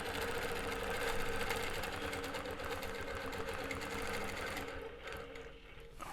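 A longarm quilting machine stitches steadily through quilt layers during ruler work, its rapid mechanical hum running continuously and close, easing slightly near the end with no talk.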